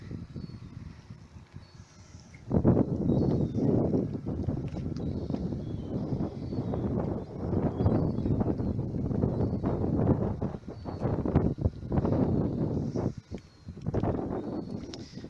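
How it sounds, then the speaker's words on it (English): Strong wind buffets the microphone aboard a small sailboat in a continuous low roar, gusting louder and softer throughout, with no voices. "the wind's got up and I can't really raise the sail"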